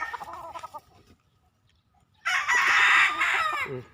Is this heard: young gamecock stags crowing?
yes